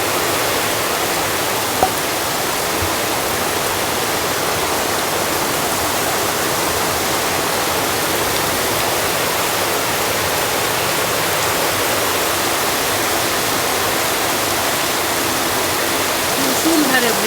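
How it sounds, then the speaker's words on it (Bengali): Heavy torrential downpour roars in a dense, loud, unbroken wash of noise throughout, alone with no voices over it. "মুসুলধারে বৃষ্টি, অনেক জোরে বৃষ্টি, আজকে এলাকায় পানি উঠে যাবে।"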